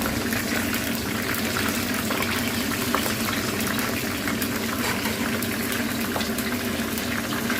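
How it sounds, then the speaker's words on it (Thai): Isan sausage deep-frying in hot oil until crispy, a dense, steady bubbling hiss that stays loud and unbroken throughout. "วันนี้ขอทอดไปกรอบโดนสักน้อยเลยค่ะพี่น้องค่ะ"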